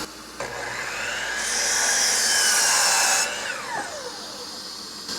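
A power saw blade cuts through scrap wood for a Halloween wreath build, a loud steady high whine rising through the cut, then the motor winding down as it coasts to a stop.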